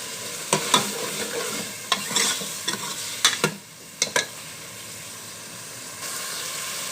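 White chickpeas being stirred and fried in masala in a handi: a steady sizzle with a spatula scraping and clacking against the pot several times at an irregular pace, close and fairly loud, with no talking.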